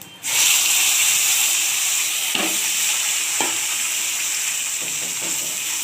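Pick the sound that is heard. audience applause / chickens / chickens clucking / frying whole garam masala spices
frying whole garam masala spices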